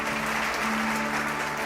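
A church congregation at a Sunday service applauds with a continuous dense roar of clapping mixed with cheering, loud and filling the room for the whole moment.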